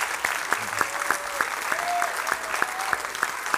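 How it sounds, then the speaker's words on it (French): An audience applauds to encourage performers dressed as gladiators to enter: steady clapping from a crowd, with sharp louder claps up close and a voice briefly heard over it. "Est-ce qu'on peut les applaudir pour les encourager à rentrer"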